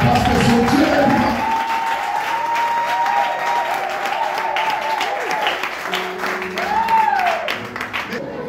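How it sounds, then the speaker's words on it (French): A church congregation breaks into loud, sustained applause with clapping and some cheering. A voice speaks over the crowd throughout. "acclamons très fort pour cet homme"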